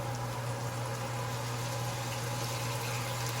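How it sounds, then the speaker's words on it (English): Soy sauce bubbles and sizzles steadily as it deglazes a hot pan, continuous sizzling and bubbling with a low constant hum underneath and no pauses. "what the soy sauce is gonna do is help us, what we call deglaze the pan"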